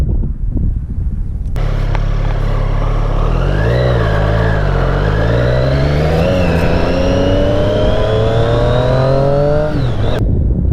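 A 2018 Triumph Street Triple RS motorcycle engine revs hard and climbs through the gears, rising pitch repeatedly across several upshifts, loud and close throughout with no talk.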